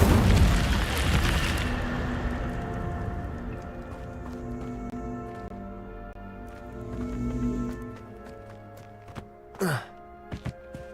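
An Incendio fire spell cast in Hogwarts Legacy opens with a loud, booming burst that rolls into a long, fading rumble. Several brief, sharp pops and a quick whooshing sweep follow near the end.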